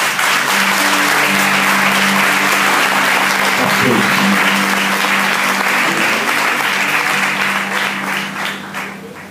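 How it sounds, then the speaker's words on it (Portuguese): A church congregation applauds during a worship service: sustained, loud crowd clapping throughout, over a steady low tone, tapering slightly at the end. "Você pode aplaudir ao Senhor?"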